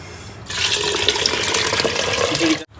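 Water pours steadily into a pot of spiced khichdi in a loud, continuous gush for a couple of seconds, then stops abruptly.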